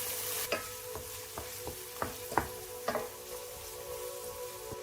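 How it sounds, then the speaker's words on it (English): Cashews fry in a pan with a steady low sizzle, broken by a series of sharp clicks and scrapes as they are stirred, close by and with no talking. "continue frying for another 5 minutes until they take on a golden hue"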